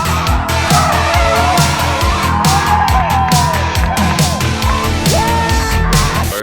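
A drift car with a second-gear entry slides under the handbrake, engine roaring loud and close while tires squeal and skid in sustained, wavering screeches.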